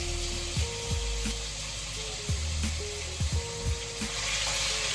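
Oxtail lowered into hot oil in a pot gives a steady hiss of frying with intermittent louder bubbling bursts, close and continuous, with no talking.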